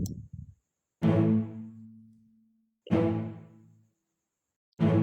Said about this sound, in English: I added these strings to it,